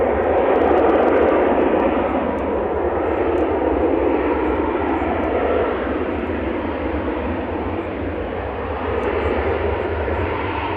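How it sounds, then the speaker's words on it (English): A Ryanair airliner touching down at Manchester Airport on arrival from Berlin produces a loud, steady engine roar and rushing noise that fills the whole stretch with little change. "So this is Ryanair just touching down, coming in from Berlin."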